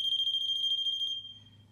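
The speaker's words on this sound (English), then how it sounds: "After 10 seconds, the unit will chirp." A Poolguard pool alarm unit lets out a loud, close, steady high-pitched electronic chirp lasting about a second before cutting off.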